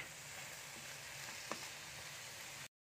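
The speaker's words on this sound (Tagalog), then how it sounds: "Gisa-gisa lang muna itong patola." Sponge gourd being sautéed in a pan gives a steady, even sizzle with a faint clink near the middle, then cuts to silence at the end; no one speaks.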